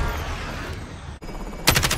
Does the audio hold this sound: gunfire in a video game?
yes